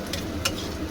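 Chopped ginger frying in a pan for vegetarian chilli paneer, a short steady sizzle with a couple of light crackles close by.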